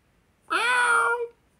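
One clear, drawn-out meow from a cat, a mother cat, rising then falling over under a second, close and loud against a quiet background.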